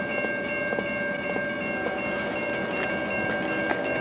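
An eastbound freight train rumbles close by in Emmett, Michigan, in winter, with sustained horn tones ringing over a steady mechanical roar and faint rhythmic clicks, no voices.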